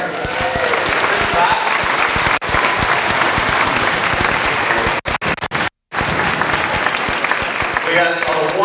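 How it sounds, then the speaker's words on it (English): Loud, sustained applause from a school audience at a sixth-grade band concert, filling the hall for the whole stretch with a couple of brief dropouts near the end. "can we give a huge round of applause for the number of kids we got up here?"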